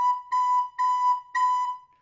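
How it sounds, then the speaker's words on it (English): Three or four separate recorder notes on the same pitch, each tongued with a crisp start and stop, alone and close up. "You hear that hard stop and start on the notes?"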